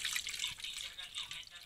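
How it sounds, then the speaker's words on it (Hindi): Water poured off settled, soaked ground roti paste into another vessel, a soft continuous trickling splash heard close and fairly quiet. "ये सारा पानी हमें दूसरे बर्तन में निकाल लेना है"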